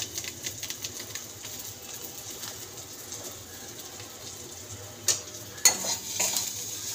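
Spices frying with green chili and chicken masala in a pan, a low sizzle under stirring, with a couple of sharp spoon clinks against the pan toward the end.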